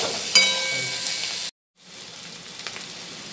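Vegetables sizzle steadily in a pan over a medium flame while cooking for Indian-style masala pasta, a continuous close frying hiss broken by a brief silent gap before it resumes more softly.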